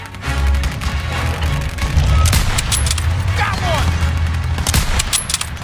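Battle gunfire in a WWII video game set in Marigny, France, 1944, with rapid bursts and sharp shots cracking continuously at close to mid range, dense and loud, while voices call out over the din.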